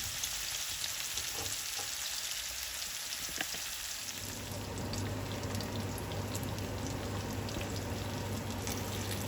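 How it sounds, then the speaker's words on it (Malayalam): Mackerel pieces shallow-frying in a pan for a Kerala-style fried fish, a dense, even hiss of spattering oil that grows fuller and louder partway through, with no talk over it. "അപ്പോൾ നമ്മുടെ അയല ഫ്രൈ തിരിച്ചു മറിച്ചിട്ട് ഏകദേശം റെഡി ആയിക്കൊണ്ടിരിക്കുന്നു"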